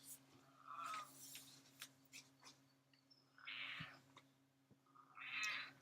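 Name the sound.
cat meowing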